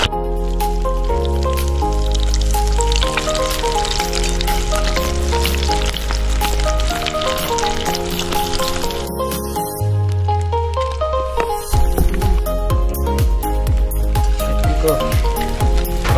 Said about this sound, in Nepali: थोरै गरेर फ्राई गर्नुपर्छ होइन।